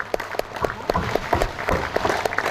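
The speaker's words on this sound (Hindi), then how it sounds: "एक बार सभी किसान भाइयों का स्वागत जोरदार तालियों के साथ।" A seminar crowd in Ahmedabad claps together in a brisk, close burst of applause lasting a couple of seconds.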